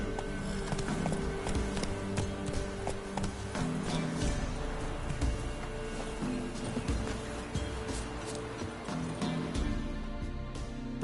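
Roach, the horse in the video game The Witcher 3, galloping with a steady rapid clip-clop of hooves, continuous and fairly loud over a dense layer of game sound.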